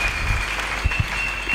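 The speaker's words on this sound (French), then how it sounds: "Acclamons très fort." Congregation applause during a church sermon, a steady broad wash of clapping across the whole moment with no voices standing out.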